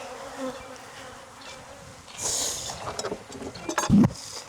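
Honey bees buzz around a hive while fume boards are used to clear them at a Jacksonville, Florida apiary, a dense close swarm drone with louder swells as bees pass near.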